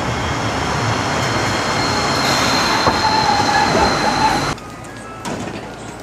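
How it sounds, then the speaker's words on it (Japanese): A Hankai Tramway Sakai Tram, Sakai city, Osaka, rolls along rails nearby with a continuous rumbling roar and faint wheel squeal, then the noise drops sharply as it passes. "8月25日から走り出した新しい阪堺電車の堺トラムです"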